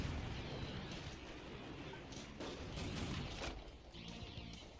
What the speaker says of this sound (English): Apparently I'm not good at shooting rockets.